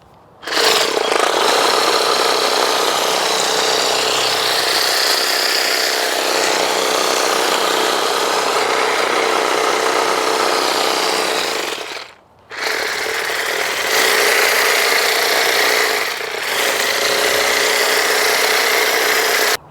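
An Echo eForce DPAS-2600 56V battery-powered hedge trimmer attachment runs with a loud, continuous buzzing drone, close up, cutting off briefly twice and revving straight back, no speech.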